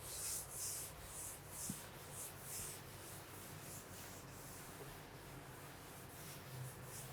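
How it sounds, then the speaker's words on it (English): An eraser wipes a section of writing off a classroom board during a maths lesson, making faint, quiet, rhythmic rubbing strokes repeated evenly with no talk. "I'll rub this section only."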